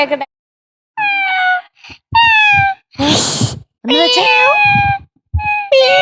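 A person imitates a cat, making several drawn-out, realistic meows with breathy sounds between them, loud and close.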